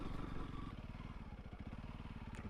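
A Honda CRF300L trail bike with K-Tech suspension rolls slowly along a gravel lane, its single-cylinder engine chugging in a steady, even pulse, close and continuous, with no voices.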